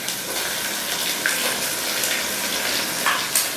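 Onion goes into hot oil with bay leaf, cinnamon, fennel seeds and cardamom for orange rice. A steady, fairly loud frying hiss, with a few faint clinks over it.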